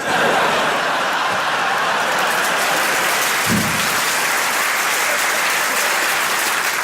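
Steady audience applause at a stand-up comedy show, heavy and continuous throughout, with a bit of chuckling mixed into the crowd noise.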